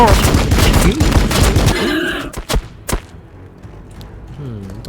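Bolters fire in a dense, rapid volley during a Blood Angels battle in Warhammer 40K Battlesector. The shots are loud and close and sit under steady talking, then break apart into a few separate sharp reports as the talk goes on.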